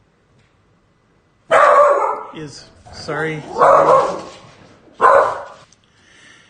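Dog barking in short excited bursts, loud and close, with a brief spoken word mixed in between the barks.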